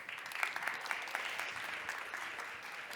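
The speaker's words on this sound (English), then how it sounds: "Round of applause" Conference audience claps for panel guests at a startup investment event, a soft, steady patter of many hands heard from a distance, fairly faint and unbroken.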